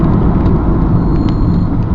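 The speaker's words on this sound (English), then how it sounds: "And now let's see what the brakes are like." A 2004 Land Rover Freelander TD4 HSE brakes, heard from inside as a loud, continuous low rumble of road and drivetrain noise with a few faint knocks.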